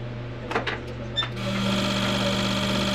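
Aftermarket car fuel injectors for a turbo Honda Civic firing on a test rig, starting as a few sharp clicks and then running as a steady, loud mechanical buzz with a rapid pulsing texture close to the mic.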